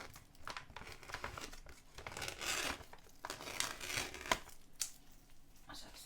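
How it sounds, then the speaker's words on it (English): A pair of scissors cuts through crinkly material, with steady rustling, crumpling and tearing sounds close to the microphone and no talk. "going to be clever and use a pair of scissors"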